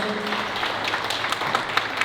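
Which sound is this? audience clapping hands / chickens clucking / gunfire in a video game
audience clapping hands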